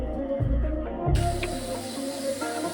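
A rotary tool fitted with a flexible snake attachment spins at high speed near a BMW Z4 under rebuild, a steady close whine with a louder hissing rise partway through as it works.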